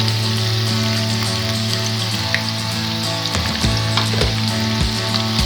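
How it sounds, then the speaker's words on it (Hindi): Two medium chopped onions fry in about half a cup of ghee, giving a steady, close crackling sizzle with scattered pops and brief stirring scrapes, with no voices. "इन्हें यहाँ करेंगे फ्राई और हल्का सुनहरी कलर आने तक यहाँ इनको फ्राई करेंगे"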